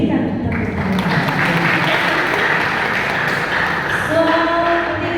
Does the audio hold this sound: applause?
yes